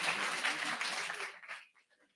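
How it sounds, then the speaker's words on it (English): An audience at a GameCamp talk gives a brief round of applause, a dense patter of clapping that fades out after about a second and a half, leaving a few scattered claps. "round of applause."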